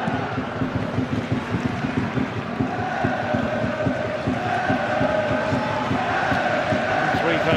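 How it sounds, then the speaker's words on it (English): Hibs fans at Easter Road during a derby against Hearts, a loud continuous football crowd roar with rhythmic chanting, clapping and sustained singing tones filling the stadium. "most of the noise being generated by the Hibs fans"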